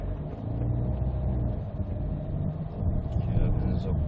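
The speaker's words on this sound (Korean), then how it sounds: "엑셀 뛰면은 그냥 차가 굴러갑니다" Kia Carnival with aftermarket intake and exhaust fitted, accelerating while driving, a low steady engine and road rumble heard from inside the cabin.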